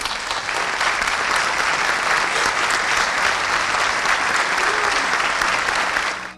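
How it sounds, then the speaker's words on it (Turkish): A large audience applauds steadily at a memorial ceremony, producing a dense, sustained clapping that holds evenly for several seconds before tapering off at the end. "Şöyle bir kere hep beraber onu bir alkışlasak ben çok mutlu olacağım."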